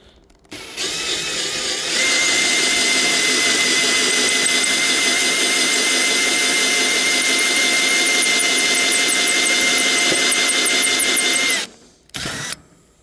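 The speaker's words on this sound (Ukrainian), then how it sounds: "Я вам скажу, цей камінюка не так легко і свердлиться." A loud, high-pitched drill grinds continuously into a hard meteorite stone for about ten seconds, then cuts out, followed by a brief second burst.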